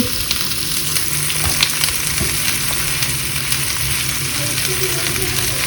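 Green chilies sizzle in a pan with onion and garlic, giving a continuous, close frying hiss with occasional small stirring scrapes and taps.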